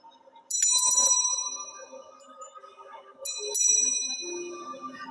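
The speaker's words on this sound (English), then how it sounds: "So I'm going to ring the bell, and if you think you hear a bell from further away, let me know." A bell is struck twice, each strike a clear, close ring with shimmering overtones that decay slowly before the next.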